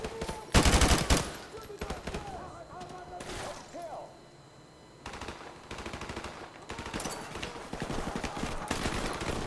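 Bursts of automatic gunfire in Call of Duty: Modern Warfare Remastered come in loud clusters between quieter stretches, mixed with rattling clatter and game effects, while players talk over parts of it.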